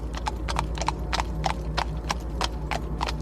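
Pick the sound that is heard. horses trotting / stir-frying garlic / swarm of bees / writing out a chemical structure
horses trotting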